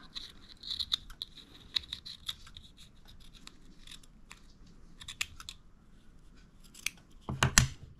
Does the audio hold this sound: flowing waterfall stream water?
no